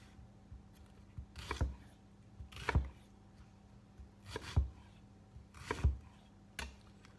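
Knife chopping through onions on a cutting board, two or three firm thuds at a time in a steady rhythm, close and clear, with quiet pauses between the cuts while braised beef brisket is being prepared.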